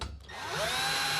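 Power drill driving screws to fix a shelf onto a wood-and-metal workbench: a motor spins up with a rising whine and then holds a steady, close, loud buzz with no talking.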